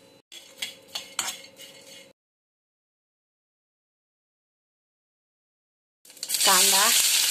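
Cooking for a cabbage curry: a spoon scrapes and clinks against a pan, a long silence follows, then a loud burst of sizzling as ingredients hit the hot oil and a voice speaks over it.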